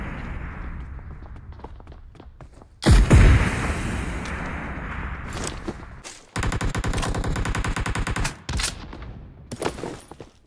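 Shooting video game gunfire: a loud close burst, then long rapid streams of automatic fire and a few single cracks, all over a steady game background with no speech.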